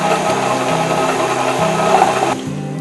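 Electric hand mixer running steadily on low speed through chocolate cake batter, a close, continuous whirring motor hum that dips slightly in pitch near the end, with no talking.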